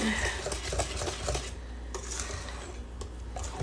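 Strawberry Jello cake batter mixed in a bowl, with close, steady scraping and stirring of a utensil against the bowl, continuous and fairly soft with a few sharper knocks.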